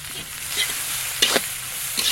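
Onion and garlic with salt and turmeric frying in a pan for saag, a steady close sizzle with a few stirring scrapes of a spoon, no voices.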